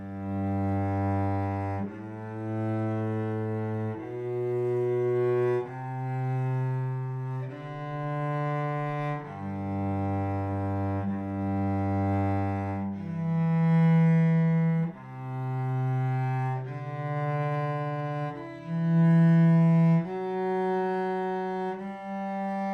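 A solo cello plays a slow beginner passage with whole bows, each sustained note drawn across the full bow length, changing pitch in a steady, even rhythm, clear and close.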